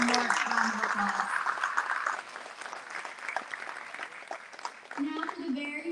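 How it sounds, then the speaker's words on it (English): Applause for a speaker at a graduation ceremony, a sustained crowd clapping with a voice speaking over it at the start and again near the end. "Let's give Miss Sabrina Walker and members one more round of applause."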